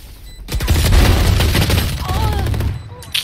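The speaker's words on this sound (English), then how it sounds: "Swarm grenade out." A swarm grenade in a video game goes off as a rapid, loud cluster of overlapping bursts crackling for a couple of seconds before fading, with a brief sharp pop at the end.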